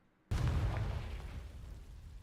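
A Confringo fire spell from Hogwarts Legacy goes off as a sudden booming explosion after a moment of quiet, a heavy low-end blast that rumbles and slowly decays over the next two seconds.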